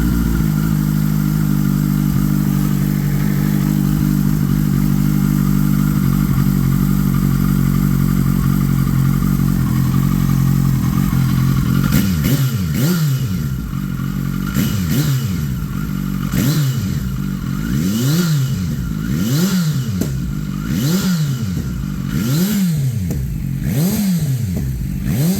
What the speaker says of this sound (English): I can now idle the bike back down too.